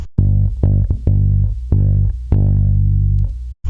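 A bass guitar plays a repeating riff of deep, sustained notes, with a quick muted ghost note slipped between them; no voices.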